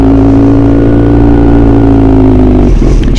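A scooter engine drones loudly and steadily up close while riding through morning traffic, with the pitch dropping near the end as it slows.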